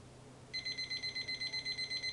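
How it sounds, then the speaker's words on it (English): A kitchen timer alarm starts beeping in quick, evenly spaced high-pitched pulses, ringing steadily over faint background noise. "I'm just going to turn the heat off when the alarm goes off."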